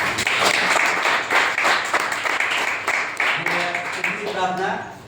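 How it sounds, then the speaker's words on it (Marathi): A prayer group in Mumbai claps together in an indoor gathering, a few seconds of steady clapping that tapers off as a voice begins speaking. "त्यांच्याबद्दल आपण टाळ्या वाजूया."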